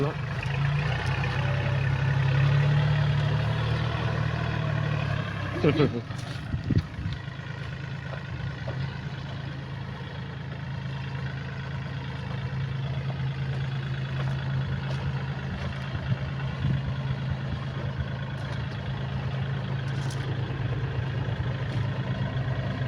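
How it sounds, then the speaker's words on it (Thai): A tractor digging up cassava roots in a field, its engine droning steadily at a low pitch, louder at first with a brief clatter, then running on at an even idle-like rumble while someone speaks briefly. "เดี๋ยวสิพายไปเบิ่งการทำงานของรถไถกันนะ"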